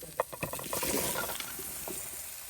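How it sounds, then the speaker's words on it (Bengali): Pieces of bottle gourd drop into a hot pan and are stirred, with a few quick clatters at first, then a continuous sizzle and scraping under a light crackle, close by. "দিয়ে দিলাম লাউ"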